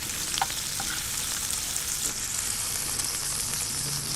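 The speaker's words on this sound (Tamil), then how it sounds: "ஸோ 2 மீடியம் சைஸ் கட் பண்ண வெங்காயம் இப்போ இதில் சேர்த்துக்கலாம்." Two medium chopped onions drop into hot oil in a pan for a hotel-style chicken white kurma and sizzle loudly and steadily without a break, with a few faint scrapes of stirring and no voices.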